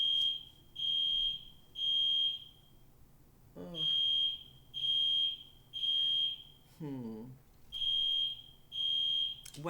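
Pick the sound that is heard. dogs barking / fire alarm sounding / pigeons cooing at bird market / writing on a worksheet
fire alarm sounding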